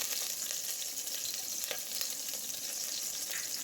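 Green chillies and ginger crackle in hot oil with popped mustard seeds for a wheat rava upma base, a soft, even hiss with faint stirring, heard alone and at moderate distance.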